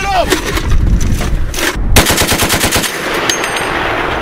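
Browning M2 .50 caliber heavy machine gun firing from a tank turret in short bursts of rapid, evenly spaced heavy shots, loud and close, with a brief gap between bursts and shouted voices in the background.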